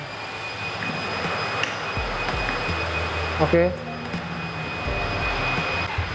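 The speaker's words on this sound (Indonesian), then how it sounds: "Oke, kita nyalakan aja sekarang motornya." Engine on a modified Yamaha XMAX scooter starts up and revs, a loud, close roar with a sharp rise midway, while a person speaks briefly at the start.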